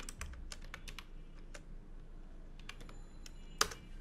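Keys tapped on a computer keyboard while entering three numbers into a C program, a quiet run of separate clicks ending in a sharper, louder keystroke, like Enter, with no talking.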